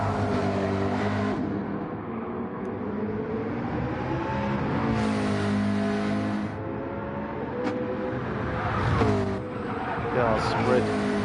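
Race cars circulate around a track, engines whining and rising and falling in pitch as they pass at varying distances, with a voice talking over them.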